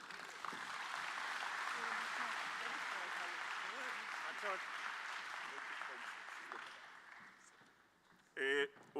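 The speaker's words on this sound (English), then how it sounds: "let's give Minister a round of applause" Sustained applause from an audience at a water and sanitation conference, steady clapping for several seconds that fades out, followed by a brief burst of another sound near the end.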